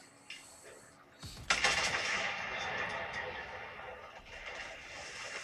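Naval gunfire in World of Warships, a sudden heavy boom followed by a long rumbling roar that decays slowly, with fainter game sounds before it and a voice talking over it.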